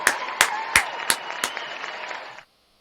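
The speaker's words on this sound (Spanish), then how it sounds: "vamos a recibirlo como de costumbre con un fuerte aplauso" Applause welcoming a guest teacher at a church podcast, brief clapping with a few sharp, evenly spaced claps standing out, then cutting off abruptly.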